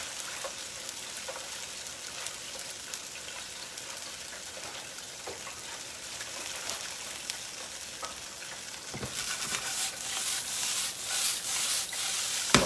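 Gochujang chicken wing sauce frying and crisping in a pan, a steady dense sizzle with small crackles and pops, growing louder and brighter toward the end.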